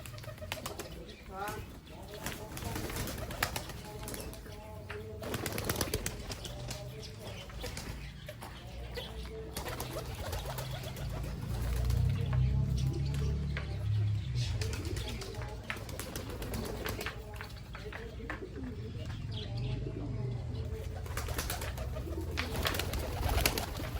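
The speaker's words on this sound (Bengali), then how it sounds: "দেখতে পাচ্ছো সব এখন খাবার খাচ্ছে আমাদের পায়রাগুলো" A flock of pet pigeons feeding gives a continuous stream of low, rolling coos with occasional wing flaps and bird chatter, and a person's voice can be heard now and then.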